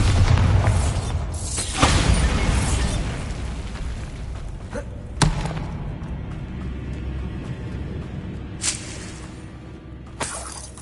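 A Bombarda blast spell cast in the Hogwarts Legacy video game, heard as several sharp bursts and crashes with debris and rumble over a continuous game soundscape, loudest near two seconds and again around five seconds.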